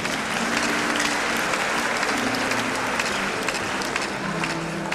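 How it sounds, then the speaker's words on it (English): Sustained applause from a large audience at a university degree-awarding ceremony honoring Pastor Olukoya, steady dense clapping filling the hall throughout with a faint murmur of crowd beneath. "Can we clap our hands together for our pastor, Pastor Olukoya? Let's clap our hands together."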